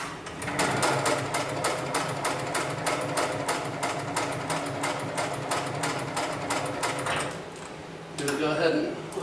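A 733CS heavy-material sewing machine stitches through thick lifting-sling webbing, running as a fast, even mechanical hammering for several seconds before slowing near the end, close and loud, with a voice faint in the background.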